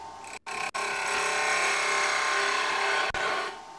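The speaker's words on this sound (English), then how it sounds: "So we'll just start the lathe up and continue." A wood lathe spins up and a tool cuts the turning held in a Robert Sorby wobble chuck, giving a steady, loud scraping whir with two brief pauses near the start and one near the end.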